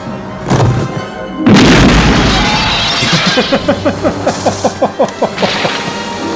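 A grenade explosion in the 1984 comedy film Top Secret! goes off as a loud, sudden boom with crashing debris, then gives way to a rapid series of sharp rhythmic cracks and thuds.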